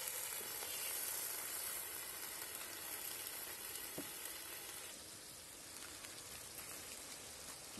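An assortment of meat stews in wine in a saj pan, giving a steady, soft, rain-like sizzle and bubbling hiss that carries on alone with no voices.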